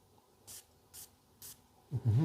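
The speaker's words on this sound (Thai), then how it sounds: "สเปรย์แรงด้วยนะ" Three quick, close hissing bursts from a Dior Higher EDT perfume atomizer, evenly spaced about half a second apart, then a louder low thump of handling.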